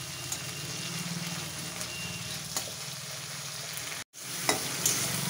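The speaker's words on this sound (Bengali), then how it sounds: "চিংড়ি মাছটা আমি খুব লাল করে ভাজবো না, হালকা করে ভেজে তুলে নেব।" Shrimp lightly frying in a pan, an even close hiss of oil with a few faint spatula taps and a brief cut near the end.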